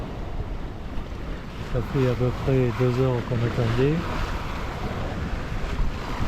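Wind and sea on the open ocean aboard a sailboat on a transatlantic return passage, with whitecaps building: a steady broadband rush of wind and water throughout, and someone speaking briefly in the middle.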